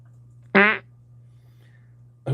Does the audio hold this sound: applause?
no